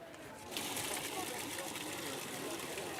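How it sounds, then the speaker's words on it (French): Water runs steadily from a tap, starting abruptly after a short pause and continuing as a soft, even rush. "Laissez-moi vous montrer la quantité d'eau que l'on prend au robinet."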